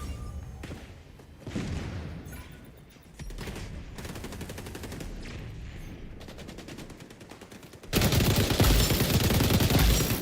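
M249 light machine gun firing in the XDefiant shooter game, sustained rapid bursts that grow louder and denser toward the end, close and dominant with no talk over it.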